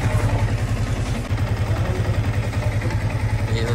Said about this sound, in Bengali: এই হচ্ছে বাইকের